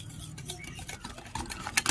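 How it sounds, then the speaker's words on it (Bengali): A hand whisk beats cake batter with powdered sugar in a bowl, giving quick scraping, clicking strokes with short tapping bursts. "এখন আমি একটি হ্যান্ড উইস্ক দিয়ে খুব ভালো করে মিক্স করে নেব।"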